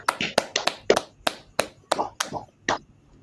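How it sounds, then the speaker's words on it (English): Several sharp, separate hand claps ring out at an uneven, spaced-out pace, close and moderately loud, on a podcast set. "Clap it up."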